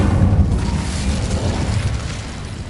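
Incendio fire spell cast in Hogwarts Legacy: a loud, rumbling blast of flame that roars steadily for a few seconds with a deep low-end body and no voices.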